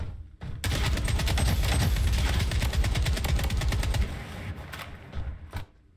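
Sustained rapid automatic gunfire in the shooter video game Project Bloodstrike, a dense loud burst lasting several seconds with a few trailing single shots.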